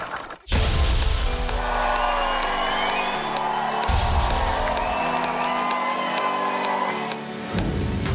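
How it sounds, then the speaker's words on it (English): A television studio audience loudly booing an evicted Big Brother housemate, a sustained crowd roar with jeers and whoops that swells and dips while some cheering mixes in. "Warning, this VT contains booing."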